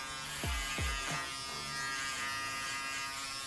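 An electric shaver or trimmer buzzes on the skin during a low fade haircut on coily hair, a soft steady hum with a few brief swooping pitch dips as it is pressed and moved.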